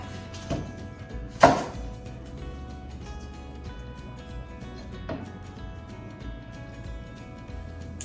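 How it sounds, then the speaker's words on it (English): A knife cuts through a yellow onion on a board with a few sharp, isolated chops spread out amid quiet kitchen background. "I'm just going to cut it in half that way, and then cut the one end off"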